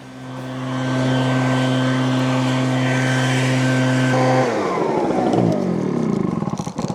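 An ECHO PB9010T two-stroke backpack leaf blower runs loud and close, first as a steady high whine, then rising in pitch and roaring as it is throttled up, then sputtering toward the end.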